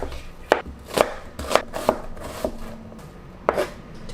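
A knife chops ginger, garlic and onion finely on a board, about seven crisp, close strokes in an uneven rhythm, with no talk.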